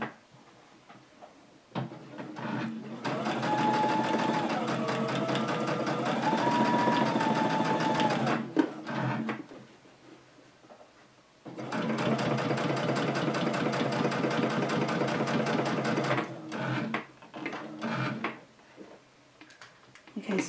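A sewing machine stitches around the binding of a placemat in two sustained, steady runs of rapid mechanical ticking, separated by a quiet pause with brief handling clicks; fairly close and moderately loud.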